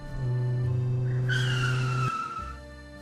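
A car brakes and pulls over to the side of the road, with a sustained skidding tire squeal over a steady engine hum that cuts off and settles into a lower idle.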